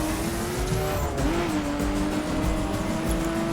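An off-road car brakes hard in the racing video game The Crew, tires squealing in a sustained, wavering screech over the steady rumble of the engine.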